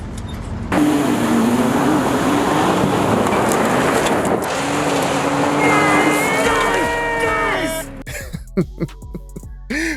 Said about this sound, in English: I do not like how these new Ram 1500 Hurricane power trucks sound